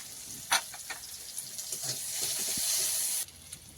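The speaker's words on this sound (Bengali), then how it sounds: "পেঁয়াজ ফোড়নটা লাল লাল করে ভাজা হয়ে গেছে" Onion and panch phoron frying in oil, with a quiet sizzle that builds into a steady hiss, punctuated by a few soft clicks and stirring taps before it cuts off.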